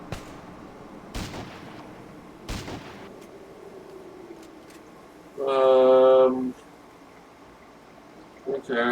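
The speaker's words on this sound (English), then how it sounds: "Once I start firing on one, the other guy can start firing on me" Two sharp, separate gunshots in Fallout Tactics: Brotherhood of Steel ring out about a second apart, followed later by a brief, louder harmonic tonal burst over a low steady background.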